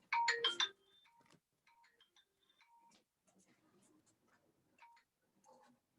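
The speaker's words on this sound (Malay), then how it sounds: "Ada gangguan bunyi telefon." A phone ringtone chimes in a classroom, a loud melodic burst at first, then softer repeated tonal notes continuing intermittently under faint background sounds.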